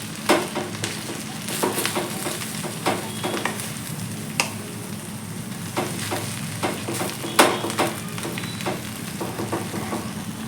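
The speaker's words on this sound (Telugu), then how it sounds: "లో టు మీడియం ఫ్లేమ్ పెట్టుకొని ఇలాగ మెల్లగా మిక్స్ చేసుకుంటూ వేపేసుకోవాలి" Amaranth leaves stir-fried in a pan over low to medium flame, with a steady sizzle broken by scraping and stirring clatters throughout, close and moderately loud with no talking.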